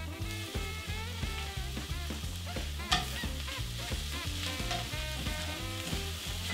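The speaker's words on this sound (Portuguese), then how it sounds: "A cebola já está começando a dourar, vamos jogar o nosso cogumelo." Shimeji mushrooms and onion fry in a pan with a steady, close sizzle that runs throughout, over tonal background sounds.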